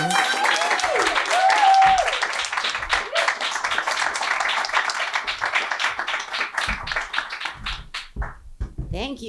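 Audience applause fills a live storytelling show at Grove 34, a dense clatter of clapping hands that thins and fades into scattered claps as a voice begins.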